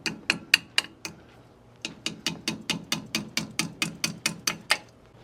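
Hammer taps a brake part down into place, a quick burst of four sharp metallic taps, a pause, then a steady run of about a dozen evenly spaced light taps, close and clear.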